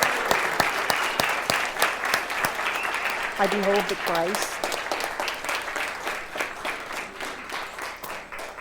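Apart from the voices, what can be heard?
congregation applauding and cheering for new members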